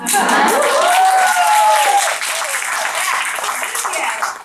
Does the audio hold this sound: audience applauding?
yes